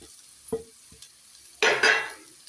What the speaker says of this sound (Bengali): এবার আমি এই চিকেনগুলো এর মধ্যে দিয়ে দেবো।